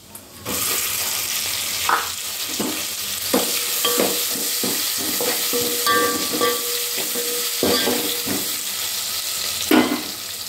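Onions frying in oil with whole spices for egg biryani, a continuous close sizzle broken by several sharp scraping stirs from a spatula.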